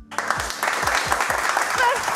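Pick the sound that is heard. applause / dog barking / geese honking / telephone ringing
applause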